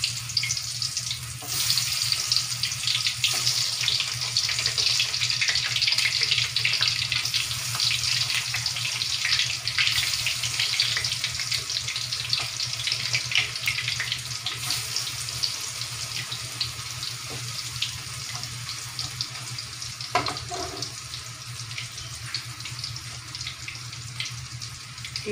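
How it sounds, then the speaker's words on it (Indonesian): Tempeh frying in hot oil, a steady, bright sizzling hiss that carries on evenly throughout with no talking. "Ini ya, teman-teman, minyaknya udah panas, aku mau goreng tempenya ya."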